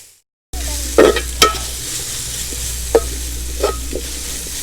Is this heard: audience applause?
no